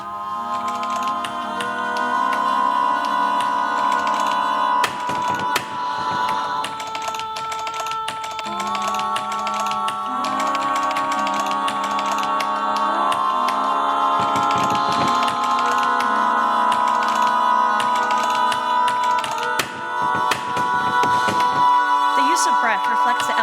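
Generative sound composition in which keystrokes and tapping are laid over sustained tonal notes, giving a dense, continuous layered texture with scattered clicks, loud and close.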